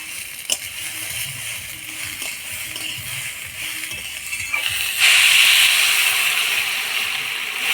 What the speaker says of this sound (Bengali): এবার মাপ মতো জল দিয়ে দেবো